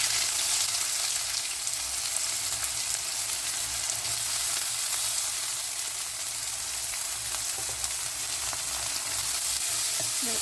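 Green chillies and onions frying in a pan with oil, a steady bright sizzle that runs unbroken throughout, with occasional faint scrapes of stirring.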